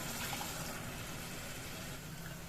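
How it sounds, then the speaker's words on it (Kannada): Water is poured into a pot while making kattin saaru, a Karnataka lentil soup, giving a steady, soft, continuous splashing rush over about two seconds. "ಈಗ ನೀರು ಹಾಕೊಂಡ್ಬಿಡ್ತೀನಿ"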